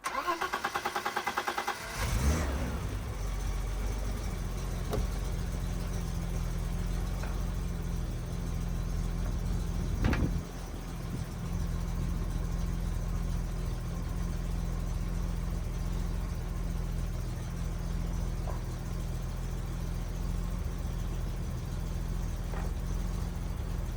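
A BMW E30 325i engine, unstarted for three years, cranks and catches after a couple of seconds, then settles into a steady, low idle that runs on, with a brief clank partway through.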